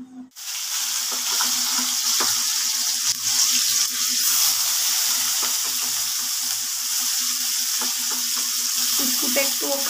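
Potato pieces sizzle and crackle steadily in hot oil in a pan, a loud continuous frying hiss close by with small stirring clatters, starting abruptly after a brief quiet moment.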